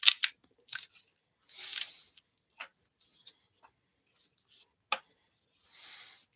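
Tarot cards are shuffled nearby: crisp riffling bursts and snaps, then scattered light taps and soft shuffles in a quiet room with no talking.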